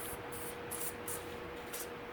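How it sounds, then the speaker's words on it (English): WD-40 sprayed from a thin straw nozzle into the power jet nozzle of a Keihin carburetor on a Yamaha YZ250 or YZ125, a faint hissing spray in several short pulses, close, with no voices. "I'm going to stick my little WD-40 squirter in there, and I'm going to spray"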